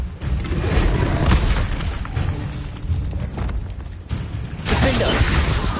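A Confringo blasting spell explodes in Hogwarts Legacy, loud and close, with a dense rumbling boom that sustains through the clip, a sharp crack near the four-second mark and a fresh burst of crackling debris near the end.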